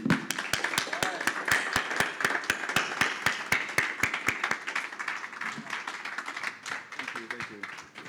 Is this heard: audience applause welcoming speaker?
yes